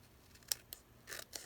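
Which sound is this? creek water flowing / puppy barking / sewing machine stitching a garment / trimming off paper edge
trimming off paper edge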